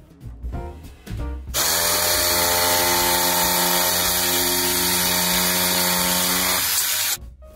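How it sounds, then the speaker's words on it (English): A jigsaw cuts a wooden sign for a Christmas craft, starting after a few short bursts and then running as a loud, steady high-pitched whine for about five seconds before stopping abruptly. "it's always fun using my jigsaw"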